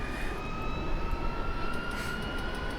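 Two M-346 jet engines in a flight simulator spool up together, a steady loud turbine roar with rising high-pitched whine tones, continuous and alone without talk.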